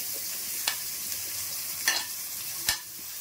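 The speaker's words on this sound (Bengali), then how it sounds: "এবার আমি পুরের জন্য সবজিগুলোকে একে একে ভেজে নেব" Grated carrot and cabbage fry in three spoons of hot oil, a steady broad sizzle with three distinct spatula taps against the pan spaced across the stretch, close and with no talk.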